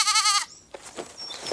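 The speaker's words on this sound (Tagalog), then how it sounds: "Nagsasalita pala yung kambing." A goat gives one loud, wavering bleat at close range, followed by quieter rustling and faint background sounds.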